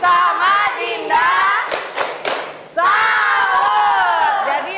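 A school audience at a digital learning launch event cheers a student, loud, excited crowd shouting and whooping in bursts with some clapping and thumps underneath, briefly dipping before surging again.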